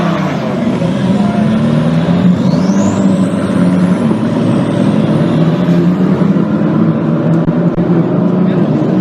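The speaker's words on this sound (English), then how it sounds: "They are now heading out onto the circuit for their installation lap" Formula Winter Series racing cars rolling out of the pit lane onto the Circuit Ricardo Tormo in Valencia for the installation lap, steady engine drone with a rising whine, under continuous ambient noise.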